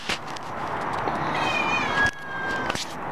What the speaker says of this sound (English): That meow is my uncle's cat